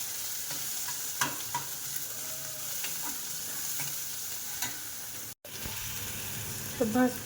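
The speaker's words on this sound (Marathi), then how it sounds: "आता कांदा टाकून घेतो आणि हिरवी मिरची आता हे चांगलं भाजायचं आपल्याला कांदा लाल होईपर्यंत" Onion and green chilli fry in a pan with a steady sizzle, close and moderately loud. Stirring taps come through at intervals, a brief dropout cuts in near the end, and a few clatters follow.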